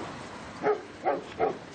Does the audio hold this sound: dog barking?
yes